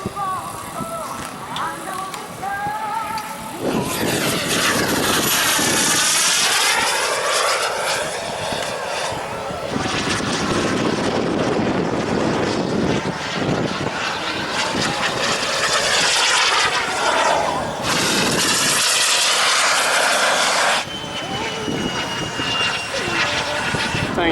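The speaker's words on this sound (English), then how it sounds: "That's a nice looking Air Force jet right there." A model jet turbine at an air show roars loudly and continuously, swelling and fading as it sweeps past repeatedly at about 200 miles an hour, with a high whine riding over the rushing noise.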